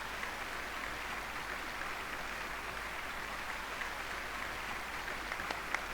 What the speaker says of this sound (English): The applause continue after I take off the mask.